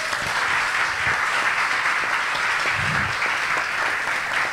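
Sustained applause from an audience honoring the poet Manuel Barros, a dense even roar of many clapping hands that stays loud throughout with no talk.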